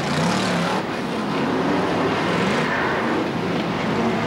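BriSCA Formula 1 stock cars race at Boston in 1991, their engines a loud, continuous roar heard from trackside, with the pitch shifting as the pack passes.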